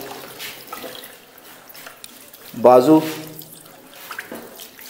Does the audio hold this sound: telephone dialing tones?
no